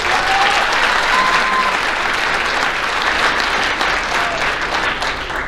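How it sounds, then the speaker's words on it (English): Steady, full applause from an audience in a school gym at an athletic banquet, loud dense clapping sustained throughout with faint crowd murmur beneath. "Let's give them a round of applause."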